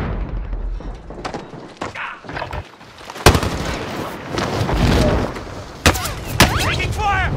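Gunfire in Call of Duty: Warzone during a Plunder quads match: a few sharp, loud shots cracking out in the second half over a steady game-ambience rumble, with voice chatter heard now and then.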